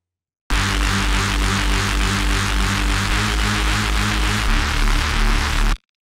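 Mixed layers of a Reese bass made in the Serum synth: a dense, buzzing detuned saw drone with regular pulsing phasing and a note change late on, loud and steady with no talk.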